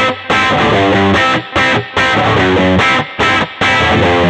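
A Fender Hot Rod Deluxe tube combo amplifier gives a heavily distorted, rattling tone in short chord bursts separated by brief silences, loud and close.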